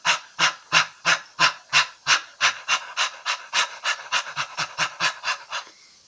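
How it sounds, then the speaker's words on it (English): Rhythmic forceful breathing from a dynamic breathing meditation technique, about twenty sharp, evenly spaced exhalations that speed up slightly and soften toward the end, close and alone. "another dynamic breathing technique or dynamic meditation technique"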